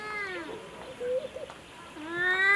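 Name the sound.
cat meowing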